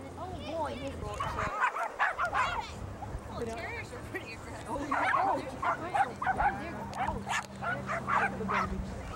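Cocker spaniel barking and yipping at a dog park, the sharp barks scattered and fairly close amid steady background chatter and voices of people talking throughout.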